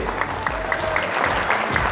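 Applause for a couple at an Armenian family celebration marking a long marriage and a father's 60th birthday, a steady patter of clapping hands from a small crowd lasting throughout, fairly close and even.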